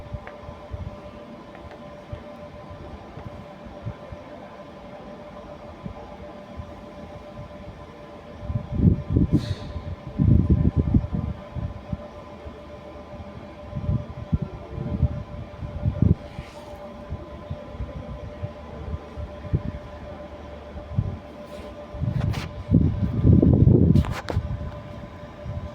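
Regional train pulling into Pontedera Casciana Terme station in Italy, a low rumble of wheels and brakes swelling in bursts over steady station hum and a faint high tone.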